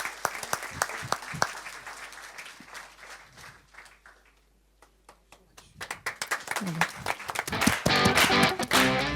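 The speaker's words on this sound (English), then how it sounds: "can I have a huge round of applause as they're presented with mementos?" An audience at a media launch event claps as mementos are handed out; sharp scattered claps die down to near silence, then applause builds again, louder and denser toward the end.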